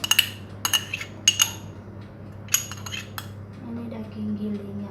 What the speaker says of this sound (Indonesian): Sekarang kita aduk bahan-bahan dalam satu wadah.